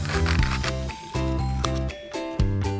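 Scissors snip through paper while cutting out a small half-circle bunny nose for a kids' handprint craft, a close, crisp series of about four evenly paced cuts.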